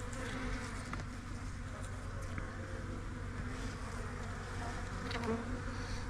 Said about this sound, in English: I'm really impressed with the amount of bees that I'm seeing here